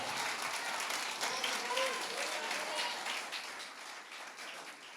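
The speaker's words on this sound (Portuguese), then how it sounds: "alguém pode aplaudi-lo aqui o mais alto que você puder?" Loud church congregation applauding in a dense, sustained wash of clapping, with scattered cheers and voices mixed in, easing slightly toward the end.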